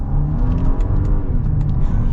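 Genesis GV70 3.5T V6 pulling hard in manual mode with quick paddle gear shifts. A steady, loud engine rumble stays close throughout, with brief ticks marking the shifts.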